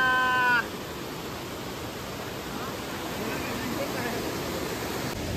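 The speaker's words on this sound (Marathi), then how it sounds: "धबधबा आलेला आहे आणि बघू शकता तुम्ही 1 नंबर धबधबा आहे" A full waterfall near Savarde, Chiplun, roars in a constant broad wash of rushing water, loud and unbroken, with a brief high tone at the very start.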